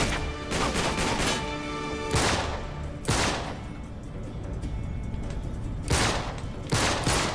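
A fusillade of gunfire rips through an Uncharted 3: Drake's Deception firefight, firing in loud, repeated bursts with brief gaps between volleys, close and dense throughout.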